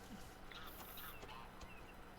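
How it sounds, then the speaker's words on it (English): Faint honking bird calls, goose-like, sound within the ambient soundscape of TheHunter: Call of the Wild on the Revontuli Coast, over a low, steady background hum. "Oh, it's a bird."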